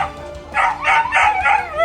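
Dog yelping in distress during an attack by a rampaging man, a quick series of four or five sharp, high cries, loud and close.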